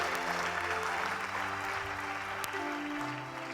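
A church congregation applauding and acclaiming during an evening service, a dense wash of clapping heard from across the hall, steady and moderately distant.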